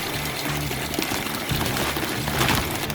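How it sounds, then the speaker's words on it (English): Hickory wood chunks being put into a container of water: sloshing and splashing water sounds close by, with a low steady hum underneath and no speech. "we're going to get our chunks and get them into some water."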